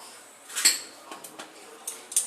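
Elephant foot yam stalks, egg and mustard oil for banana-leaf patori are mixed in a bowl, with a few sharp metallic clinks of utensil against dish spaced over a quiet background.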